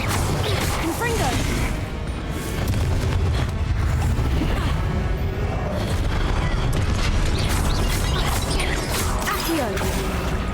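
Confringo fire spells blasting in the Hogwarts Legacy video game amid a chaotic fight, dense booming impacts, crashes and mechanical clatter packed continuously throughout, loud and close, with game voices mixed in.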